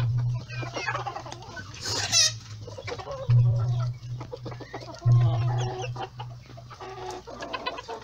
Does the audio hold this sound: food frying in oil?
no